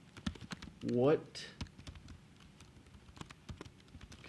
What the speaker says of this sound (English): I will type in number 2